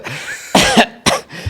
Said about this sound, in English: I start coughing on my Zoom calls.